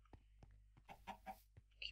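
Clucking from a chicken in Minecraft, a few short quiet clucks bunched in the middle of the clip against a faint low hum, with a brief higher chirp near the end.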